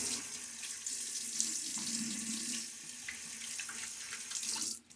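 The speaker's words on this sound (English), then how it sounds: "A little rinse now." A bathroom tap runs steadily into a sink while someone rinses their face during a wet shave, making a close continuous splashing rush that cuts off sharply at the end, with no speech.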